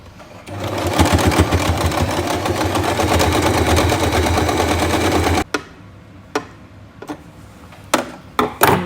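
Sewing machine stitching along the waistband edge of a pair of pants being taken in, a steady loud mechanical run for about five seconds, then stopping, followed by a few sharp clicks and handling knocks.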